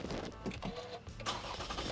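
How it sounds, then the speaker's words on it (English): A Lexus/Toyota car engine starts with a newly programmed smart key, giving a brief crank and catch followed by a steady mid-level engine idle inside the car. "so it starts the car up pretty easily there"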